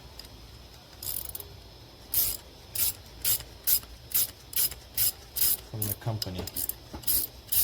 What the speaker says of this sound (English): Tapping the nut